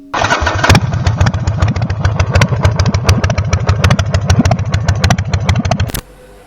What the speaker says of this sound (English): It is a sound that Harley Davidson motorcycle makes when its engine is idle